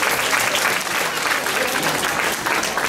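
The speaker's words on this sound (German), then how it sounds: "Ja, Applaus erstmal, genau. Applaus." An audience at a dance show claps in a dense, loud, even burst of applause, with a faint voice underneath.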